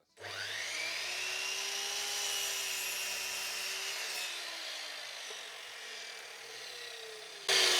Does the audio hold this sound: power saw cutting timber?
yes